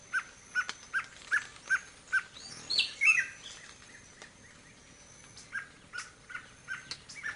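Rufous-collared sparrow female and chicks call with a run of short, regular chirps, a brief busier burst of calls, then further scattered chirps, moderately near in quiet outdoor surroundings.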